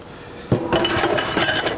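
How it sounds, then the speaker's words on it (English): Dishes and pots clatter and clink in a kitchen sink during washing up, a sudden burst of clanking followed by steady rattling and scraping close to the listener. "I gotta wash some dishes"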